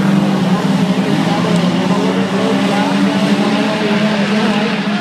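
Loud, continuous roar of several standard saloon race car engines revving together at close range at the start of a speedway final, steady and droning throughout.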